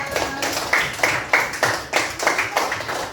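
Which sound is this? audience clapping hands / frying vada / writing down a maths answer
audience clapping hands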